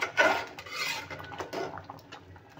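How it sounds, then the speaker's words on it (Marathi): Cooked toor dal mashed in a metal pot with a utensil, a few short scraping and clinking strokes close by, moderately loud and without talk. "आता मी डाळ घाटून घेत आहे"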